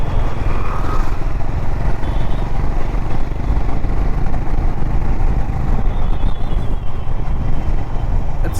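A Honda H'ness CB350 motorcycle engine thrums steadily while riding in the city, a loud continuous low rumble mixed with wind rush and no break, with no speech.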